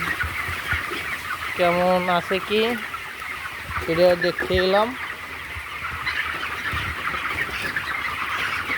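Chickens cluck and squawk in short bursts on a Bangladeshi poultry farm, two clear clustered calls standing out over a steady flock murmur, with someone speaking over them.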